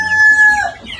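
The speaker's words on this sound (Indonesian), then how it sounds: "Seperti inilah dia ayam kampung KUB." A KUB native village chicken crows once in a short, close, loud call with a sustained pitched tone, heard alone without talk.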